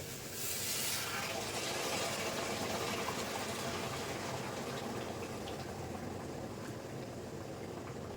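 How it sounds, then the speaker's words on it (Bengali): Water boils hard in a pot for dal, a steady rolling bubbling and hiss that stays constant and fairly faint, with no voices. "জল টক বগিয়ে ফুটে গেছে"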